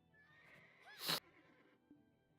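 A single short horse whinny in the mobile video game Black Desert Mobile rises over a quiet background, followed by a faint snort.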